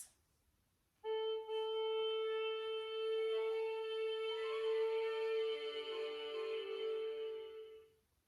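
Orchestra musicians tuning up together, heard as a sustained held tone joined by layered overlapping pitches and shifting notes, swelling in for several seconds then fading away.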